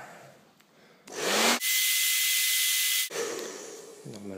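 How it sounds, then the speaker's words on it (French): A hair dryer blows hot air onto a Predator helmet, switching on for a loud, steady whooshing roar of about two seconds before cutting off. "C'est de prendre un sèche-cheveux."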